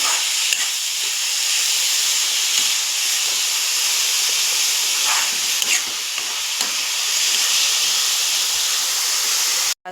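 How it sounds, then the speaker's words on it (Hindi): Onions and chilies frying in a pan with hing, giving a continuous loud hissing sizzle up close, with occasional faint stirring scrapes and no speech. "उसके बाद लेना है प्याज, मिर्च भी अच्छे से भून गए तो देख सकते हो"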